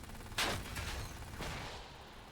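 Hover tank cannon fire in the sci-fi strategy shooter Silica: a sharp blast, then a second softer shot about a second later, over a constant rumbling battle din.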